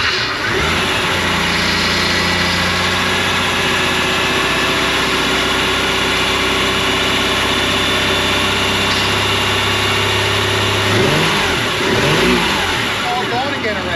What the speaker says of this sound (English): just fire up the engine and let it warm up